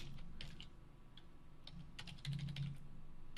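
Typing code on a computer keyboard: a brisk, close run of irregular plastic key clicks and taps, with a few louder strokes near the end, heard alone without speech.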